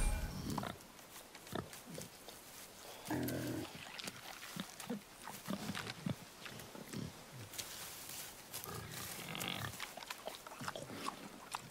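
A wild boar in God of War grunts and snorts repeatedly in short, irregular bursts at moderate distance, mixed with rustling movement in a quiet outdoor setting.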